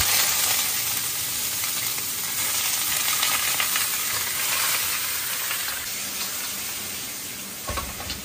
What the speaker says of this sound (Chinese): 煎一下